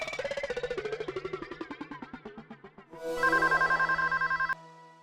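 A telephone rings inside a shop: a fast train of rhythmic ringing pulses fades out, then a brighter, steady electronic ring repeats briefly before cutting off sharply.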